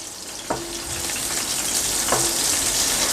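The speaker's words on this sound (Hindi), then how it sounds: "तो अभी मैं इसमें डालूंगा प्याज, 2 दरमियाने साइज़ के प्याज।" Two medium onions frying in half a cup of hot ghee in a pot give a loud, steady hiss and sizzle, with a couple of sharp splashes as pieces drop in.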